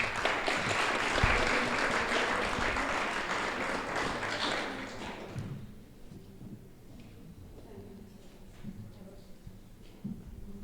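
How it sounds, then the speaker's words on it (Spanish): Audience applause for guest doctor Tania Peña at a melanoma talk, a dense burst of clapping that fades out after about five seconds, leaving quieter room sound and murmuring. "Un aplauso, Tania, por favor."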